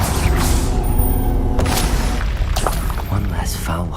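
Spell explosions from the Hogwarts Legacy video game burst loudly amid continuous booming combat noise, with sharp crackling blasts repeating every second or so under a character's shouting.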